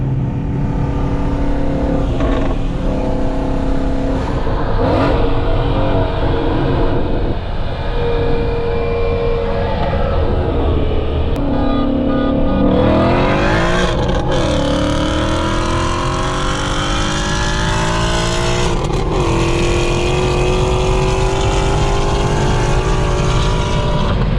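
A supercharged Mustang and a stock Dodge Hellcat Widebody race hard from a roll. Loud engine roar fills the recording throughout, rising through repeated gear changes, with supercharger whine and continuous revving up close.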